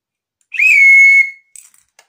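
A single clear, fairly loud whistle sounds for under a second from the Somerset Express with LNER coaches as it departs, followed by a few faint clicks.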